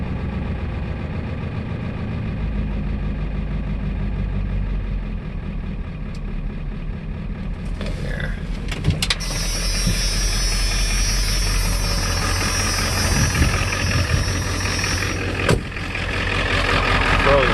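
A turbo diesel pickup truck idles after a cold start, a steady low engine rumble with hum that grows rougher and adds hissy clatter partway through, close and continuous.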